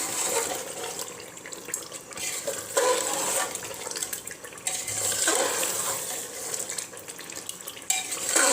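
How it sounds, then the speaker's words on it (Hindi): Chicken bhuna masala is stirred and fried in a pan, with a steady sizzle under repeated scraping and clinking of a utensil against the metal, continuous and fairly close, with no talking. "मसाला हमें अच्छे से भूनना पड़ता है"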